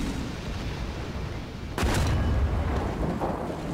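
Tank cannon firing in War Thunder during a Panther engagement, a single loud boom breaking partway through a steady rumble of engine and battle noise.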